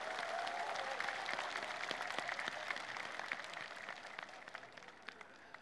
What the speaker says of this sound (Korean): 큰 박수로 화답해 주시기 바랍니다